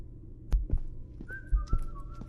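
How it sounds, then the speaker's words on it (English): A video game character whistles a short, wavering tune that enters midway and holds a few drawn-out notes, set against two pairs of heavy low thumps like a heartbeat. "He's whistling."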